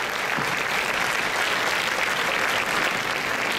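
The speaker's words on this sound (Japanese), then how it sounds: "会場の皆様、今一度大きな拍手をお送りください。" A festival audience at a Niihama Taiko Festival drum performance claps in a dense, steady burst of applause that fills the whole stretch at an even, loud level.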